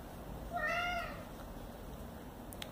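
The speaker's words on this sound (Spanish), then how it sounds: "Está mi gato llorando ahí." Domestic cat meowing indoors, a single drawn-out plaintive cry in the middle, fairly faint against a steady background hiss, with no voices.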